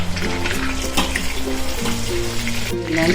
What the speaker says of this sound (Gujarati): તેલ આવી ગયું છે તો જીરું ચટકે